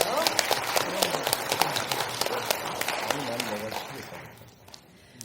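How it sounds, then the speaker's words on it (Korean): Audience applause for a speaker at a National Assembly policy forum, with a dense patter of clapping that tapers off, while a voice speaks over it. "이병태 교수님께 큰 박수 다시 한번 부탁드릴게요"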